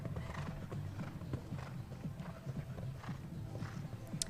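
Rhythmic clip-clop of horse hooves moving around a show jumping arena at a CSI2* Grand Prix, steady repeated beats at moderate distance, with a faint whinny in the background.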